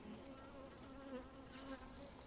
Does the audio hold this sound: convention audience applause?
no